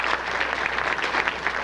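A burst of audience applause at a poetry show, dense and steady throughout, many hands clapping at once with no voices standing out.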